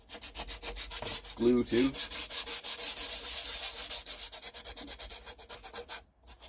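Abrasive rubbing on the wooden surface of a guitar neck, roughened before a fretboard is glued on. Close, continuous back-and-forth scraping strokes run throughout, with a brief spoken word partway through.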